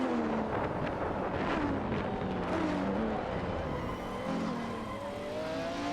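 A Lamborghini Diablo VT and a Ferrari F50 race in a racing video game, with continuous engine drone and rising and falling revving tones layered over steady road noise.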